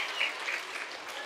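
Audience applause at a Beykoz Municipality Ramadan event talk, a brief burst of steady, fairly soft clapping from a crowd.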